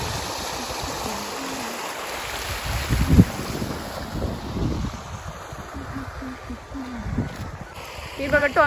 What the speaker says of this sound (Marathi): आणि त्यात हे खळखळणारं पाणी इतकं अट्रॅक्ट करत आहे ना